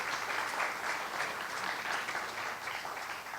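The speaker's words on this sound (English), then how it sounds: "You can clap for them coming up here." Steady, dense audience applause fills a hall as guests walk up for a panel conversation on race in America, a continuous wash of many hands clapping with no voices on top.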